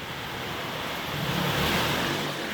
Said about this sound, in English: It is raining really. Wow, it's blowing.